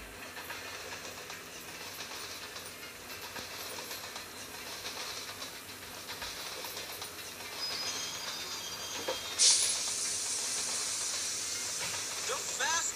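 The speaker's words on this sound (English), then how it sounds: "Trains are fun." A train runs along the rails with steady rumble and hiss, getting louder and brighter toward the end as it comes closer, with a sharp burst of steam-like hiss near the middle.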